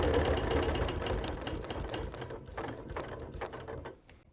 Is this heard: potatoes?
no